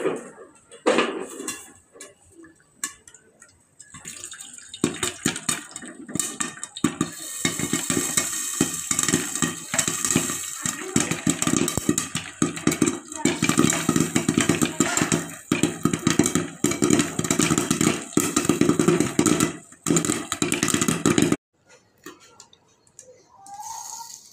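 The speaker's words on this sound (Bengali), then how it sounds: "দেখেন পপকর্নগুলো কি সুন্দর হয়ে ফুটে গেছে" Popcorn pops inside a covered pot, starting with a few scattered cracks that build into a dense, irregular stream of sharp pops before stopping abruptly.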